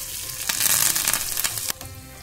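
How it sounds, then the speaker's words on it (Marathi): A spiced oil tempering for Marathi-style khaman dhokla, with chopped green chili and curry leaves hitting hot oil, crackles and sizzles loudly and steadily close up, with a sharp burst midway. "आता फोडणी तयार झालेली आहे."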